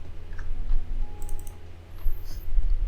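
Keys on a computer keyboard pressed for the Ctrl Shift A shortcut, giving a few light, close clicks over a low background hum.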